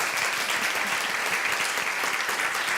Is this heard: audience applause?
yes